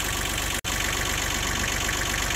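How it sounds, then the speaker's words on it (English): A small tractor engine idles steadily and close by, its low, even chugging running throughout with one brief dropout near the start. "you can hear the little tractor in the background here"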